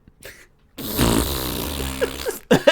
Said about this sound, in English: And it like fades out on the shitting fart sound.